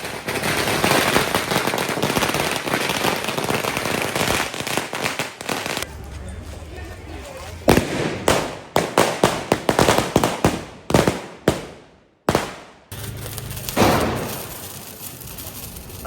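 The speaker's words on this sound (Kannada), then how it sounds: "ಪಟಾಕಿ ಹಚ್ಚಾನ" Diwali firecrackers burst during a home celebration: a long dense crackling string first, then a run of loud separate bangs and sharp cracks with short gaps between them, close by, with voices talking in between.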